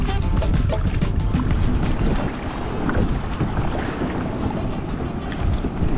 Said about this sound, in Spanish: estas olas están poniéndose locochonas